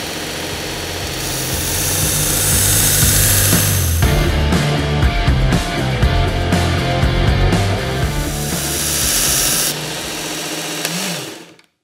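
A Work Sharp Ken Onion Edition Elite powered belt sharpener whirs steadily while a knife is sharpened, with choppy interruptions midway as the blade is passed against the belt, and the motor spins down at the end.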